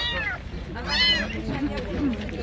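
A few short meows from a kitten at a bird market, high and close, alternating with a person talking.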